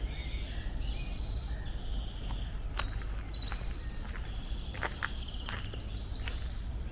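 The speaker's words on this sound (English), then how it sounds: "distracted by the bird song." Several birds sing outdoors in a garden, bright chirps and twittering phrases starting softly and growing busier after a few seconds, over a faint low background murmur.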